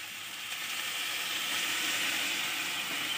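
Water saved from boiling taro stolons is poured into a hot frying pan of sautéed masala, setting off a steady, loud hissing sizzle that swells slightly and holds without a break.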